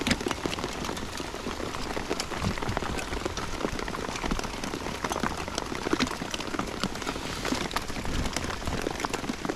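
Steady rain falls on a riverbank by the River Thames during a match fishing session, a dense, continuous hiss of drops close by and fairly loud, with no one talking.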